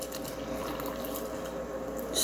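Boiled water pours steadily from a kettle into a glass holding a lychee tea bloom, a continuous soft splashing fill with a brief louder burst at the very end.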